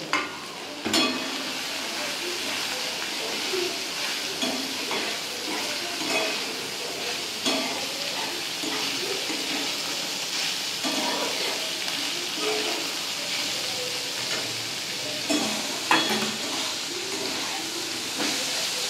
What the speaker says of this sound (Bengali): পেঁয়াজ আর ক্যাপসিকাম সব একসাথে দিয়ে আমি ভালো করে ভেজে নেব।